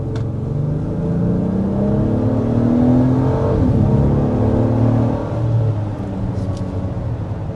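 A 2025 Acura MDX engine growls steadily under acceleration, a low, continuous drone that swells and holds at close range, with no talking over it.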